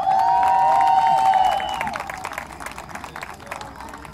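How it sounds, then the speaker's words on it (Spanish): At a wedding in Agua Dulce, California, a loud whistle or cheer opens over crowd noise, then scattered clapping and cheering from guests for a mother-and-son dance fade to lighter, uneven applause. "Un fuerte aplauso, por favor."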